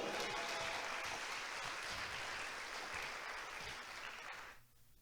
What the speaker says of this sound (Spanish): Regálale un aplauso